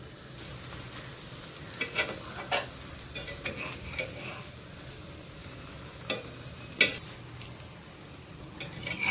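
Malpua frying in ghee in a pan, a soft steady sizzle with scattered spatula scrapes and clinks as the pancake is flipped, close but fairly quiet.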